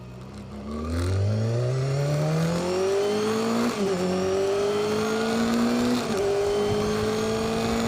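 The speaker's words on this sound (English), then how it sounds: "The engine in this baby blade is a 249cc inline-4 that loves to be revved" A 249cc inline-four motorcycle engine revs loud and close, climbing through rising pitch sweeps with brief dips at gear changes, sustained without talk.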